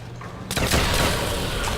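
A large light-machine-gun-style rifle firing in Call of Duty: World at War, a sudden loud burst of rapid shots that cuts in after a brief quiet moment and rattles on to the end.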